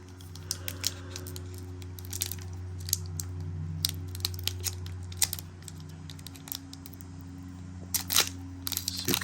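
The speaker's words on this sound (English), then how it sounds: "let's open up the first pack" Crisp crinkling and tearing of foil wrapping as a Pokémon Kanto card pack is opened, in close, irregular bursts over a low steady background hum.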